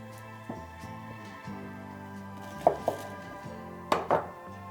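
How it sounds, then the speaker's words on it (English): A knife chopping the ends off a peeled onion for latkes: a few sharp, close cuts land in two quick pairs over steady background music. "Chop off the ends."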